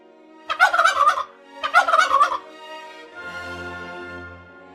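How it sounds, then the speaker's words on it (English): A cartoon turkey gobbles twice in loud, rapid warbling bursts close to the listener, then a fainter, lower gobbling trail fades out at the end. "The turkey says gobble gobble."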